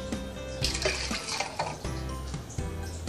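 Water running from a tap while plastic is washed with dish soap in a sink, a steady splashing flow with brief louder surges, fairly close and with no talk.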